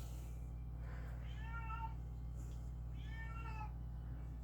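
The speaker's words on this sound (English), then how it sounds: "and you heard that meow? That was my cat." A house cat gives two distinct, fairly quiet meows about two seconds apart, heard alone over a low electrical hum in a room.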